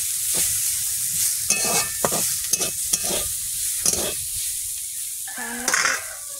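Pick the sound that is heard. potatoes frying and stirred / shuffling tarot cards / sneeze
potatoes frying and stirred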